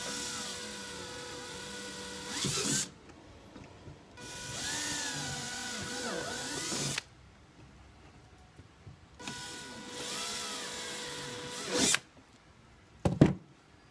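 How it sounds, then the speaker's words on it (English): Power drill boring the remaining three holes to fit a flush mount on a Hobie kayak, in three long sustained whirring bursts separated by quiet pauses, with a few sharp clicks near the end. "Now we drill our other 3 holes."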